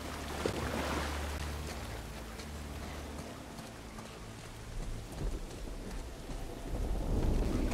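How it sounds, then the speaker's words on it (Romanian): Steady heavy rain with rolling low thunder in The Last of Us Part I, a dense continuous wash that swells louder toward the end, with no voices. "Cât de superbă e ploaia,"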